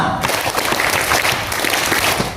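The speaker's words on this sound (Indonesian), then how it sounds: "Oke, tepuk tangan pertama." Seminar audience applauding together at a one-day Young Living essential oil sales seminar, a dense, steady burst of many hands clapping that fills the room for a couple of seconds.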